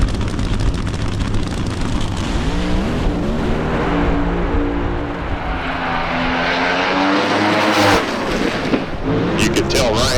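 A nostalgia funny car, a Firebird, roars down the drag strip at full throttle, its loud, harsh engine climbing in pitch and then cutting and coming back as the driver slaps the throttle mid-track, with a commentator talking over it.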